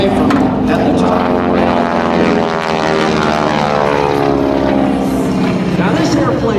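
An AT-6 Texan propeller warbird flies an airshow maneuver, its radial engine and propeller giving a steady, loud, harmonic drone that stays strong and close throughout, with a voice talking over it.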